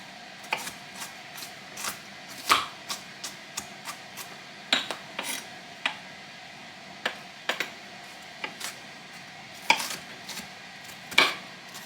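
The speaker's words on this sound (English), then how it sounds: "Just going to dice it up kind of fine." Vegetables for chili are diced finely with a knife on a cutting board, in irregular sharp taps and clusters of quick chops, close and clear against a quiet background.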